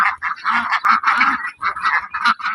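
Broiler-type Pekin ducks raised in Dinajpur villages, Bangladesh, quack loudly and close up in a rapid overlapping series of harsh, nasal calls with no pauses.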